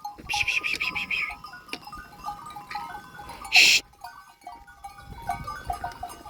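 Several sheep and goats bleat in wavering calls across a quiet outdoor scene, with one louder, harsher bleat standing out midway.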